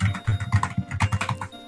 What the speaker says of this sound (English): You're typing real hard, Chief